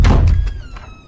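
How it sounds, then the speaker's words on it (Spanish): A door bursts open with a single loud, heavy bang close by, followed by a short fading rattle and ringing resonance, no voices. "la puerta se abre de un fuerte golpe"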